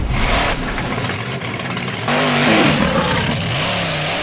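Australian monster truck Outback Thunda revving hard while spinning reverse donuts, a loud close engine roar surging and pitching up and down in waves.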